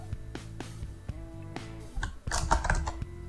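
Quick bursts of computer keyboard typing, clicks in uneven runs with short pauses, close and fairly faint over a steady tonal background.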